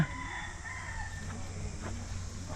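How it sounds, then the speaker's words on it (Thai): Domestic chickens and turkeys at a Sisaket park give continuous overlapping clucks and gobbling calls amid a dense outdoor murmur of birds. "ไก่งวงนะครับ เนี่ยไก่บ้านกับไก่งวง"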